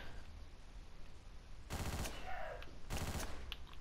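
Machine gun fire in the top-down shooter Hotline Miami: two loud bursts of rapid shots, each lasting about a second, over a steady game soundtrack with no talking.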